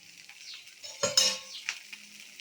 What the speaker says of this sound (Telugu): ఇంకా అటువైపు తిప్పుదాము. లైట్గా నూనె వేస్తున్నాను.